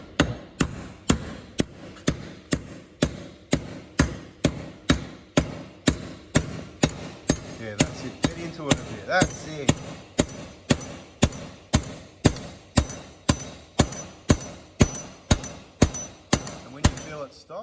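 Steady, evenly spaced metallic hammer taps ring out close by as a bearing is tapped into a pulley, about two per second, while someone talks briefly over them.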